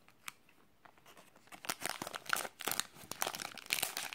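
Plastic wrapper of a Sondey milk and cocoa moelleux cake being opened by hand, with a soft start of crinkles building into dense, close crackling and tearing, no talk.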